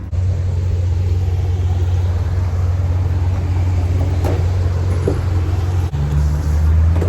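Heavy, steady low rumble of about nine car engines idling close by, loud and continuous with no talking.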